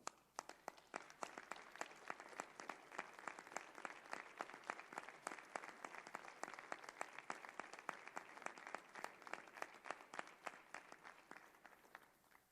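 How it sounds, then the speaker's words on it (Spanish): An audience at a religious conference on Hebrew translation of the New Testament bursts into sustained, dense applause, many hands clapping steadily and evenly for about twelve seconds before it begins to thin out. "Aplauso al Eterno."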